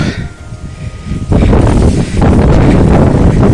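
Breezy wind gusting across the summit of Rayakottai hilltop fort, starting as a softer rush and then swelling into a loud, steady blustery roar battering the microphone, with a brief dip before roaring on.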